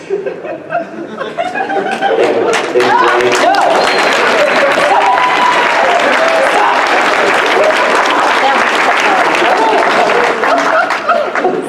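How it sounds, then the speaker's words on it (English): Audience clapping at a PAX convention game-pitch panel swells quickly into loud, sustained applause mixed with chuckles and crowd chatter, after a speaking voice in the first seconds. "Stop clapping."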